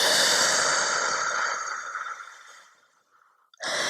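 A slow, breathy exhale during yoga breathing, loud and close at first and fading over about three seconds, followed by a sharp fresh intake of breath at the end.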